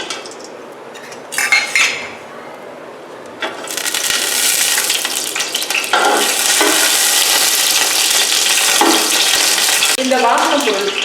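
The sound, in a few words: whole spices frying in oil for biryani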